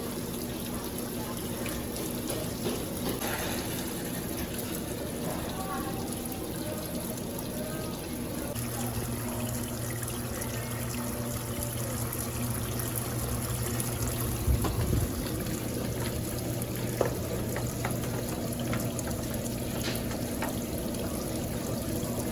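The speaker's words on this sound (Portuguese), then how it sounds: "Entrada d'água para o segundo enxágue." Water runs steadily into a Consul 12kg washing machine filling for its second rinse, a continuous rushing, splashing flow with a low steady hum underneath, close and unbroken throughout.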